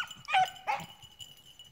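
A one-eyed dog lets out a couple of short, high whimpering yips close by, two quick bursts followed by faint background noise.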